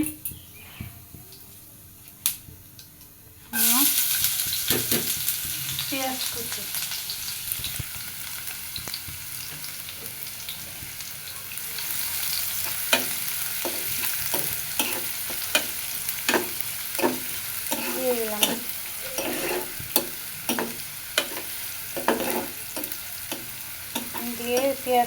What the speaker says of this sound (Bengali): তেল গরম হয়ে গেছে ওর ভিতরে এখন জিরে